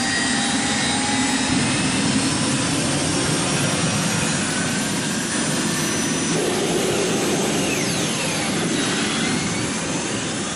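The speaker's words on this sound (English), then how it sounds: "the Y2K makes a sound signature unlike anything else on wheels" A Y2K turbine-powered motorcycle screams with a steady, loud jet-like whine and rushing roar that holds without a break for about ten seconds, close and alone.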